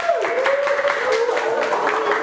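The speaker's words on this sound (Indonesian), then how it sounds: "Baik, tepuk tangan." Classroom applause from students, a steady patter of clapping that runs evenly for a couple of seconds, with a faint tone and some voices mixed in.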